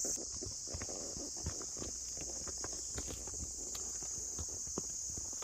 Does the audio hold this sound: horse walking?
yes